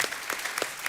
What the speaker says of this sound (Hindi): एक बार जोरदार तालियां हमारे सारे कलाकारों के लिए।